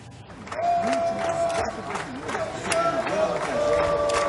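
A crowd in Chapecó applauds and cheers goalkeeper Jackson Follmann, with a steady roar of clapping and shouting voices that swells and holds throughout, fairly loud and close.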